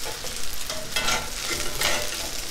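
Oil frying in a pan, a steady broad sizzle that swells and fades with stirring, close and fairly loud throughout with no talk.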